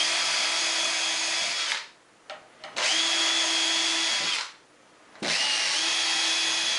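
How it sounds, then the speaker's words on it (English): A power drill whines steadily, pre-drilling plywood in three long bursts separated by brief pauses, close and loud. "There's really an art to drilling and pre-drilling."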